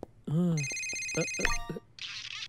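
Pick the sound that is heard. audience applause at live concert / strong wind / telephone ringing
telephone ringing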